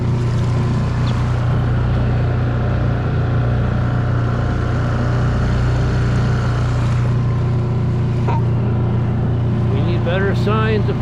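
A small motor skiff cruises on the ocean off La Jolla, its engine a loud, steady drone throughout with wind and water noise, and a few faint chirps near the end.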